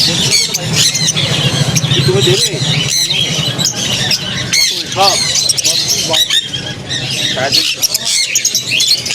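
Caged budgerigars and other birds at the Shrirampur pet market squawk and chirp in a constant busy chatter, while someone talks over them.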